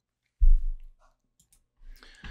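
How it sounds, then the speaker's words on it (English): A computer mouse clicks once, loud and close, while modeling a cup in Blender; a faint sigh-like breath and small rustles follow in an otherwise quiet room. "I left click and that loop cut has been created."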